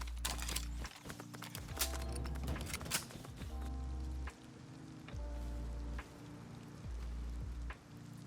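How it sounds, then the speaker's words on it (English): Rain in the survival video game Rust falls through a dark, stormy night as steady patter under recurring low rumbles, with scattered sharper taps and thuds spread through the scene. "it's dark, rainy and stormy"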